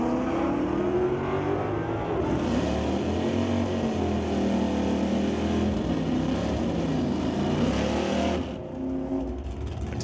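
A drag racing car at an NHRA Northwest National Open Series meet roars down the track, its loud engine drone rising and falling in pitch before cutting off sharply near the end, with no talk over it.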